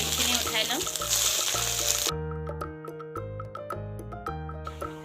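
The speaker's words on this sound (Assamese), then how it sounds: "এয়া দেখিছেনে, ডিমখিনি ভাজ খাই গ'ল" Eggs fry in hot oil in a kadai, the sizzle steady and close, overlaid with clinking ticks of a utensil stirring against the pan.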